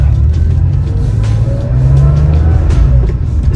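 A Porsche with a 915 manual gearbox drives along, its engine producing a steady, loud low rumble that holds throughout with a slight rise in revs midway, no talking over it.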